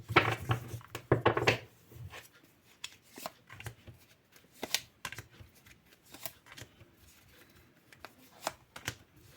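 Tarot-style cards being shuffled close up, a burst of rapid riffling at the start followed by scattered soft flicks and taps.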